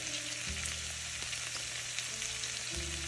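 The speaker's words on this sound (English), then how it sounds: "I've got my onions frying in some butter." Steady frying sizzle of onions in butter in a pan, a continuous crackling hiss with a low hum underneath throughout.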